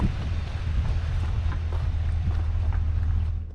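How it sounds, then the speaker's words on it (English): Wind blows across an open RV campsite in Quartzsite, Arizona, a steady low rumble of gusts buffeting the microphone, with faint scattered knocks and rattles throughout. "It's getting windy out here already."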